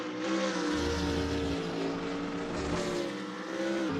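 A BMW Z4 GT3 race car engine at Lime Rock in a racing game, heard as a loud, sustained, throaty drone with shifting harmonic pitch and low rumbling pulses, with no talk over it.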